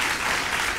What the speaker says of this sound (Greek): θέλω έτσι ένα χειροκρότημα ακόμα